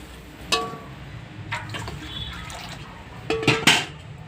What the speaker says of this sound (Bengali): এবার ডালটা দিয়ে দেবো। পরিমাণ মতো জল দেব।